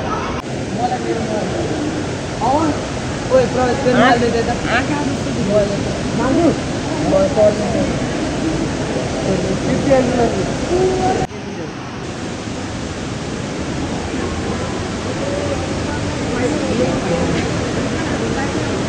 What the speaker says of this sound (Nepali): पानी चलिरहेको